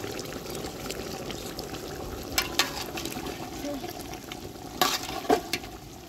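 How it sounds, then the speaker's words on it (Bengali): A boiling pot of food is stirred outdoors at a rooftop garden picnic, with a steady bubbling wash, a few sharper scrapes and knocks near the middle and end, and occasional voices in the background. "মাশাআল্লাহ বলক আসছে, একটু নাড়া দাও"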